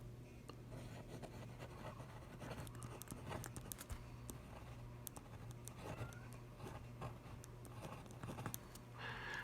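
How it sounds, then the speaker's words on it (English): A pen scratches steadily across a paper time card, close and quiet, with short strokes and pauses under a low background hum. "we'll just go ahead and write in Sunday, July 10th"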